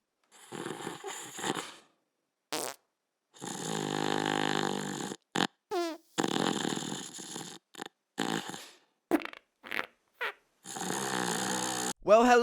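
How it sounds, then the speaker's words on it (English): Loud snoring comes in repeated rasping, rattling bursts separated by short silences, close and harsh, with a few brief snorts between. "somebody always snores loud enough to rattle the walls"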